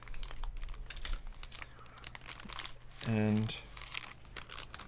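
A mail packet is cut open by hand, crinkly plastic or paper rustling and tearing in short bursts under quiet talk, with a brief tonal hum partway through.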